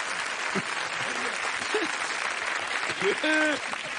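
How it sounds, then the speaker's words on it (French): Continuous studio audience applause on a French TV variety show, a dense wash of clapping at even loudness, with brief voices and a short shout cutting through near the end. "on va t'applaudir"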